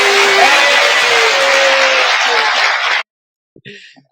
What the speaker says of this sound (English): Hey, give me some applause.